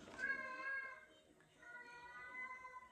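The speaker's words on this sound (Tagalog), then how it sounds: "sumasagot yung pusa ko" A pet cat meows twice, close and moderately loud, with a short gap between the calls and a quiet room behind them.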